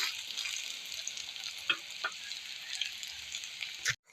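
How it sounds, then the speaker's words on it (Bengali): Fritters (bora) fry in hot oil with a steady, close bubbling sizzle and a few light spatula touches, ending in a brief clatter before quiet. "বাকি বড়াগুলো একইভাবে ভেজে নেব"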